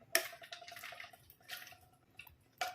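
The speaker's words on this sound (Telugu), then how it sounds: "స్టైనర్లు ఇలా పెట్టేసుకుంటే కనుక వాటర్ కింద దిగిపోతాయి." Boiled vegetables drain in a kitchen strainer, giving faint, intermittent trickles and scattered drips, with short splashy bursts between quieter gaps.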